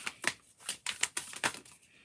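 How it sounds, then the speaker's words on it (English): Tarot cards are shuffled by hand in a quick series of about eight crisp, papery riffling bursts, close and fairly soft, with short gaps between them and no talking. "You hear me shuffling."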